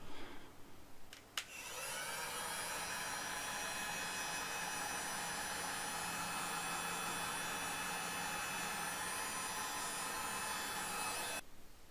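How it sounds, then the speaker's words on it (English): Heat gun shrinking heat-shrink sleeves during a model locomotive DCC conversion, a loud steady blowing whir that starts after a couple of clicks and runs evenly until it cuts off at the end. "So we heat shrink that on now."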